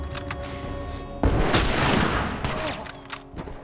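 Gunfire in The Last of Us Part 2, a sharp shot followed by a heavy booming blast and ringing decay, then a few smaller pops, loud and close with faint voice in the background.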